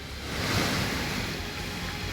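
The swollen Alaknanda river rushes in flood near Srinagar after days of mountain rain, making a constant, dense roar of fast water that stays loud and steady throughout, with no one talking.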